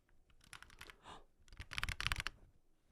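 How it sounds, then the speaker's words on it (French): Keys on a new HyperX keyboard clatter in irregular bursts of quick presses, louder clusters toward the end, fairly close and with no talk over them. "J'aime déjà tellement comment résonnent les touches."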